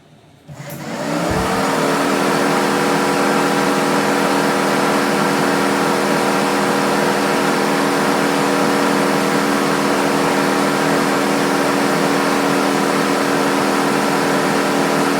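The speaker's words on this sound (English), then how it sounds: "So this is the OEM radiator with the OEM fans." OEM electric radiator cooling fans on a Dodge 5.7 Hemi spin up after a brief quiet start, settling into a loud, steady whooshing drone with a constant tonal hum that holds without change.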